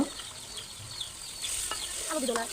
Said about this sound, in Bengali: এখন এর মধ্যে হাঁসের মাংসগুলো দিয়ে দিল